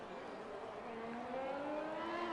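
A Ferrari racing car in a sim-racing league race at a Japanese circuit, its engine a steady, rising whine as it accelerates, heard close and continuous.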